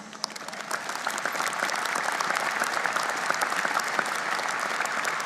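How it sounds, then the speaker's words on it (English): An auditorium crowd at a 2019 RMIT University graduation ceremony claps steadily and fairly loudly, a thick, even wash of many hands that holds from start to finish with no talking. "please keep that applause going for Martin Bean"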